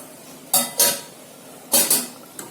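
A spoon scrapes and knocks against a pot while curd is stirred into masale bhat, four sharp metallic clinks in two quick pairs, with a softer tap trailing at the end, close and clear.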